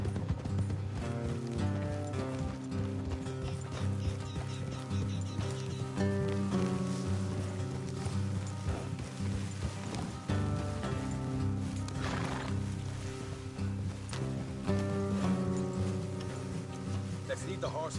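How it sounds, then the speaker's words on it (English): Horses gallop in a video game, a dense run of hoofbeats under a constant music and effects bed with a voice speaking over it, loud and continuous throughout. "Let's leave the horses here and go the rest on foot."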